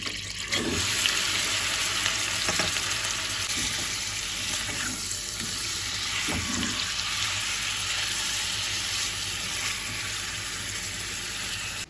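Chicken pieces sizzle steadily in melted butter in a hot pot, a loud, constant hiss with a few faint clinks over it.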